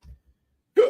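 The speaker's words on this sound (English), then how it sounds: "Why hiccups?" A single sharp hiccup sounds close and loud near the end, after a faint breathy noise at the start and a brief silence.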